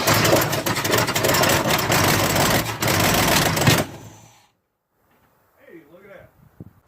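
A 1970 Chevrolet C10 truck engine running rough with ignition timing off, a loud rattling, ticking idle for about four seconds that cuts off abruptly, followed by silence and then brief talking.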